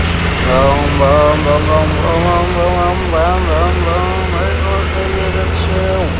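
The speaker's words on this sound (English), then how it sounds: "this is very powerful engine" A powerful truck engine runs steadily at a site where an excavator loads soil, producing a low, continuous drone beneath someone talking loudly over it.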